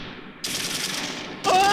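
Troops in the Close Combat 3 war game open fire in a short, loud burst of rapid gunfire that cuts in sharply after a quiet start and grows heavier near the end.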